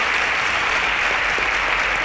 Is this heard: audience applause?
yes